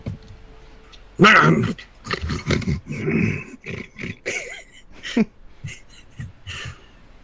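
A voice imitates a lion barking loudly, a burst of gruff, throaty noises near and close that come in choppy rhythm and mix with laughter and talk during a tabletop game session.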